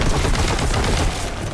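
Heavy bolter gunfire in the video game Boltgun, a dense, continuous roar of rapid booming shots, loud and close, with no pauses.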